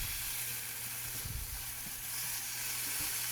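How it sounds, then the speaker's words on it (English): Ham and mushrooms sizzle steadily in a frying pan, a continuous close hiss with faint stirring clatter and no voices. "Just going to kind of sizzle this up a little bit"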